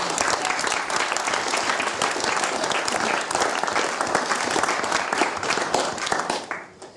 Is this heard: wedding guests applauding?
yes